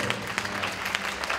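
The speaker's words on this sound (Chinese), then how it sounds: "给自己一点掌声" A crowd at a high school street dance competition breaks into dense, continuous applause, many hands clapping together in a brief, even burst.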